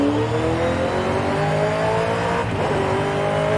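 A roughly 1,000-horsepower Miata drag car launches and accelerates hard in Forza Horizon 5, its engine screaming upward through rising revs in a loud, close, continuous roar with a brief shift dip midway.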